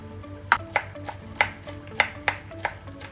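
Green chillies chopped with a knife on a board for tomato pachadi, a run of about eight sharp, evenly spaced cuts close up, with a low steady hum underneath.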